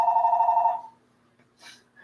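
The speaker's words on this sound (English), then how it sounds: "That's Greg's phone, ain't me." A single burst of a phone ringing, a steady buzzing electronic trill that cuts off abruptly, followed by a brief quiet gap and faint scraps of noise.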